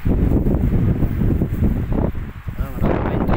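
Gusty wind on a pine-covered mountain top buffets the microphone in loud, uneven roaring bursts, dipping briefly before surging again.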